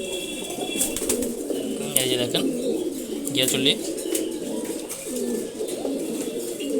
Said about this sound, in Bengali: দারুণ একটা ফাইট হইল দুইজনের মাঝে